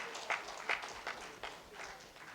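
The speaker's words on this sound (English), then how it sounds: "huge round of applause" Applause from a conference audience in a hall: scattered, fairly faint hand claps that keep going for a couple of seconds, with a few louder claps standing out.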